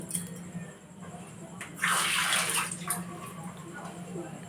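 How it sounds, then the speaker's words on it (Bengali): Water is poured into a pan of sugar to make syrup for a milk sweet, a short splashing gush partway through over a quiet, humming kitchen background. "একই বাটির 2 বাটি দিয়ে দেব জল"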